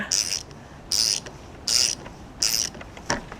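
A crank puller tool is ratcheted to pull the crank arm off a Specialized Levo SL e-bike: four evenly spaced bursts of crisp metallic ratcheting clicks, close to the microphone, with no talking.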